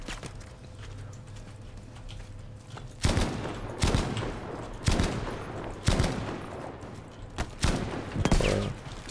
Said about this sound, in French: ça nous tire dessus depuis la montagne